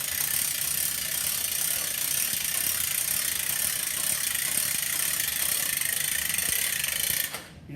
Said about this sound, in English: At this time, you're going to crank the pulley.